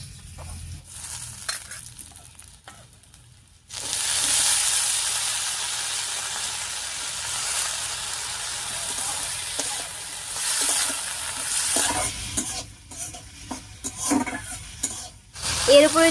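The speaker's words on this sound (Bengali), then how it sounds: "লবণ হলুদ দিয়ে মিশিয়ে আলুটাকে একটু ভাজা ভাজা মতো করে নেব" Cut potatoes drop into hot oil already frying onion, garlic and green chillies, then sizzle loudly and steadily while being stirred, with scraping spoon strokes that grow louder toward the end after a quieter opening.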